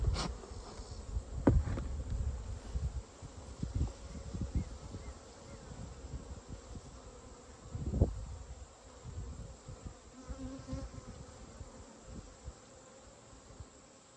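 Honey bees drone steadily around an open hive as frames of honey are lifted out, a dense continuous buzz with occasional knocks and handling thumps from the beekeeper's work.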